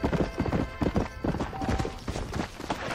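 Horse hooves clip-clop in a quick, steady riding rhythm in the Red Dead Redemption video game, close and moderately loud with no talking.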